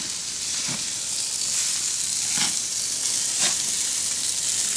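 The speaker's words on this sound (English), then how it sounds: "it's really important right now not to disturb the burger while it's vulcanizing" A beef burger patty fries in a hot pan with a constant close hiss of sizzling fat and a few louder spitting bursts, and no talking.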